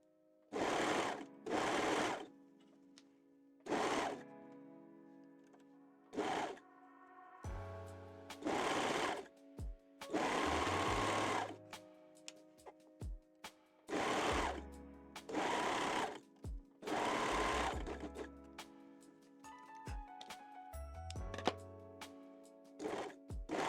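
A sewing machine stitches an elastic-free fabric binding with a longer stitch, running in short, loud bursts of whirring with quiet pauses and small clicks between them.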